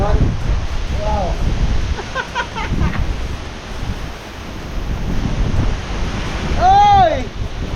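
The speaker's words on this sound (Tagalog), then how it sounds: "Lakas ng hangin ah." Strong wind roars and gusts outdoors, rumbling loudly into the microphone and swelling and easing in waves, while voices call out and shout over it.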